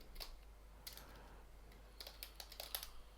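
Quick bursts of keystrokes on a computer keyboard, close and fairly quiet, clattering in short uneven runs with brief pauses and no voice.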